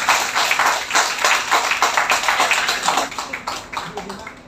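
Audience applause for the Labuan Batu delegation at an Indonesian gathering, a dense, steady clatter of many hands over the full stretch, fading slightly toward the end, with chatter underneath.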